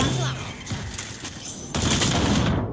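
Grenade explosion and heavy gunfire in a Valorant match, a dense continuous barrage of shots with a louder burst near the end, sustained and loud throughout.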